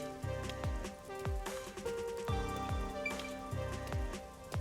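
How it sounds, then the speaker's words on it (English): Steady rain falls in the video game Master Detective Archives: Rain Code, a dense continuous patter with a layered musical backdrop and periodic low thumping beats, loud and unbroken throughout. "isn't it weird how it's not flooded, given how it's always raining here?"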